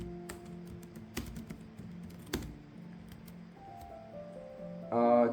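Keystrokes on a computer keyboard entering a name into an online form, light scattered taps at close range over faint background hum, ending in a louder burst with a brief tone.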